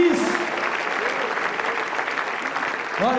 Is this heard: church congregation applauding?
yes